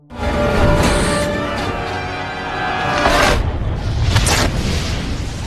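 A tripod machine explodes from the inside in a film scene, a loud, sustained rumbling boom with crackling debris and metallic groans rolling on for several seconds, with no talking.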